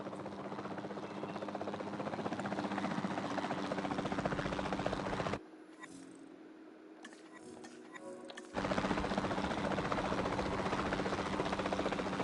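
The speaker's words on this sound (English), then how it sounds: "the sensible thing is to take a capture team helicopter." Capture team helicopter in the video game Jurassic World Evolution 2, a steady rotor drone and engine buzz close up, cutting out briefly in the middle before resuming at full level.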